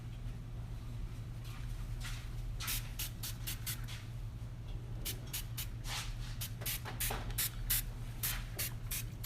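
Repeated short bursts of a spray bottle of cooktop cleaner sprayed onto a stovetop, several quick hissing squirts in clusters over a constant low hum, close to the microphone.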